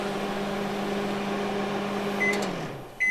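A microwave oven hums steadily as it cooks an egg, its motor tone winding down near the end, followed by a short beep.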